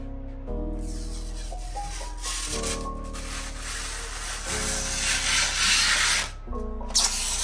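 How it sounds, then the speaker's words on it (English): Protective plastic film peeled off the front panel of an NZXT H6 Flow PC case gives a continuous crackling, tearing rasp lasting several seconds, with music playing underneath. "let's go ahead and put the front panel back on and peel off the plastic"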